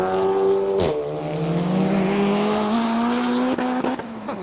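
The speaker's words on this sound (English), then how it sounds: "Oh, the first S15 of the day gliding through." A Nissan S15 drives past at a Japanese car meet, its engine note loud and close with a steady rising tone, a sharp burst of revving near the start and a few clicks and pops toward the end.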